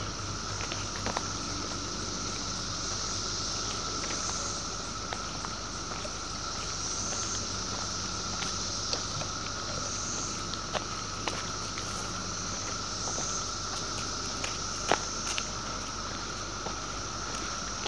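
Cicadas swarm around an abandoned Pennsylvania Turnpike tunnel on a hot summer day, a constant high droning buzz that rises and falls in waves, with faint scattered footsteps and ticks underneath.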